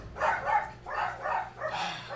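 Several dogs bark in repeated bursts indoors as someone comes to the door, loud and close with short pauses between volleys.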